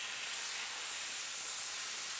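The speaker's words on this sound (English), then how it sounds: "The smell, the sizzle, perfect." Steady, close sizzling of chicken frying in a hot pan, a continuous bright hiss with no talking.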